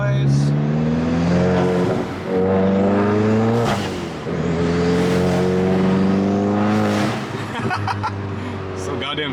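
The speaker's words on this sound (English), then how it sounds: "Oh, so good, turbo noise." A GTI engine fitted with an IS38 turbo revs hard several times up close, its loud, rising engine tone climbing and falling back between revs with turbo whoosh, and it carries on almost without pause.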